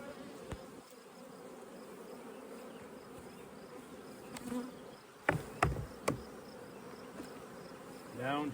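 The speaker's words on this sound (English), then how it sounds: "These are my bulk bee splits." Honey bees buzz in bulk splits with a Kona queen, a steady close drone with a few sharp knocks and handling clicks near the end and a louder buzz passing by.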